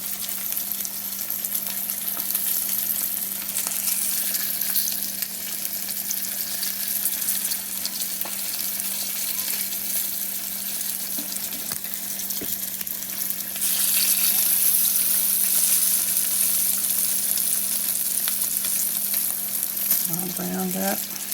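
A thick-cut pork chop fries in a pan of hot grease, a steady loud sizzle running throughout with small pops and crackles and a brief spatter near the end.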